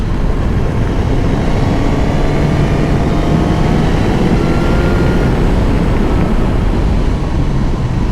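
A Suzuki GSX-S1000GX motorcycle rides along a rough road, giving a loud, constant roar of wind and engine drone with a faint shifting tone and no break.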